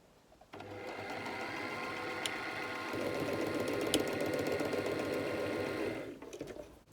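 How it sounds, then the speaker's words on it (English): A sewing machine runs steadily for about six seconds, stitching the closed ends of a doll skirt with a waistband. The motor hum is close and continuous, with brief starts and stops at each end. "Either hand or machine sew those ends closed."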